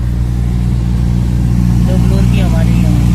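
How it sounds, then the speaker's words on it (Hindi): Steady, loud whir of a noisy AC blower fan inside a Maruti WagonR car, a constant droning hum with faint tonal whines rising near the end. "इसमें कस्टमर की कंप्लेंट है ब्लोअर की आवाज़ है।"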